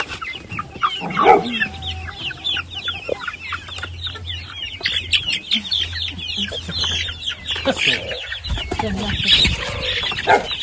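Young purebred hens cluck and chatter in a poultry yard, a busy overlapping mix of close and farther calls with a louder squawk near the start, while people talk faintly underneath.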